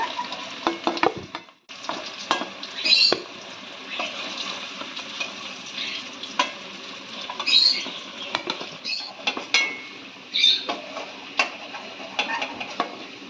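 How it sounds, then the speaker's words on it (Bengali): Fried potatoes are lifted out of hot oil in a pan, with an ongoing crackling sizzle and repeated scraping and tapping of a utensil against the pan in irregular bursts. "আলুগুলো আমাদের ভাজা হয়ে গেছে, আমরা এবার তুলে ফেলছি।"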